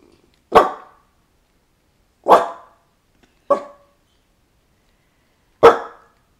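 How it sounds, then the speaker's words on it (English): A dog barks four times in separate sharp, loud bursts spaced a second or more apart, indoors with silence between barks. "Stop barking. There is nothing to bark at."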